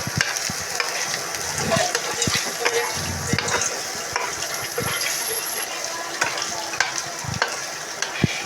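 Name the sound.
spices and ilish fish with taro being sautéed and stirred in a pan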